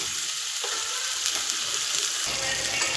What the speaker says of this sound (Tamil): உருளைக்கிழங்கு நல்லா வதக்கிக்குவோம்